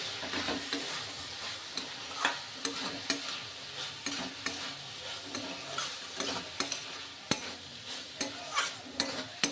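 A spoon stirs a fried spice tempering for dal in a pan, giving repeated close scraping clicks over a continuous soft sizzle of frying.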